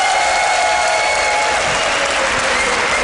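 A large esports tournament crowd claps and cheers loudly and continuously for a StarCraft player, a dense wall of applause with no break.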